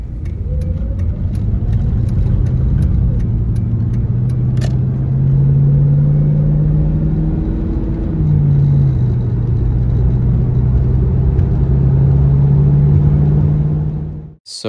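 A Ford Mustang GT drives along a road through a gorge, its engine holding a steady close-up drone with a brief dip partway through as the revs shift, then settling back to a constant hum.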